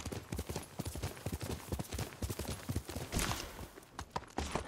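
Horse galloping in Ghost of Tsushima, with rapid, continuous hoof clip-clops close and steady over outdoor ambience for the whole stretch, with no talking.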